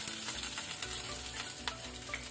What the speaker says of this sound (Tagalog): Ang bawang. Haluin natin ng konti.